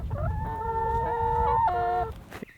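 Young meat chickens in a flock of about thirty, penned behind chicken wire, make a loud, drawn-out call followed by a second, shorter one, close by with soft rustling underneath.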